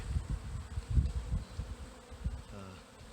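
Low, rumbling honeybee buzz rising and falling in pulses, with bumps and handling noise as a hive frame is shaken during a spring inspection.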